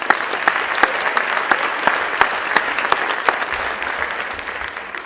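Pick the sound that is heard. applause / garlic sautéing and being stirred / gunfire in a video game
applause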